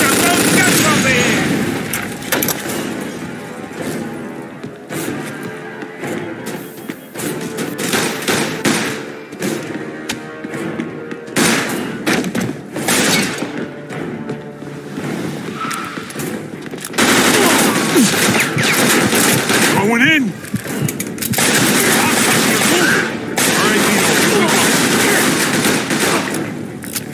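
Dense gunfire rattles through a shootout in the video game Mafia 2: long, continuous machine-gun bursts and heavy shots crack loudly for the whole stretch, with voices talking over the din.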